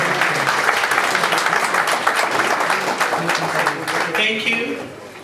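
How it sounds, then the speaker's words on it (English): A round of applause from the audience at an engineering association's presidential investiture ceremony, clapping mixed with a voice over a loudspeaker, swelling then tapering off toward the end. "Please give him a round of applause."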